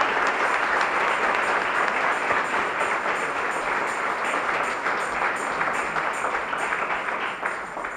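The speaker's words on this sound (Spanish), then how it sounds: "Demos un aplauso de alegría, de amor, de unidad al Señor." A congregation at a Catholic Mass claps together in a steady, close, energetic burst that carries evenly throughout and eases only slightly at the close.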